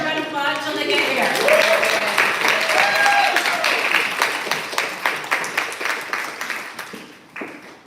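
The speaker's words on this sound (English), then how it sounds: "Everyone applaud till they get here." An audience at a literary reading night claps as a reader walks up to the stage, dense applause with some voices mixed in early, gradually thinning into distinct individual claps before stopping.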